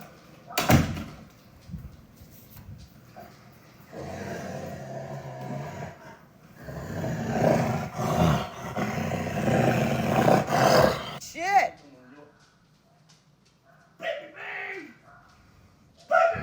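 A dog growls and makes rough hissing, snarling noises in sustained bursts, loud and close, with a few sharp thumps and quieter gaps between.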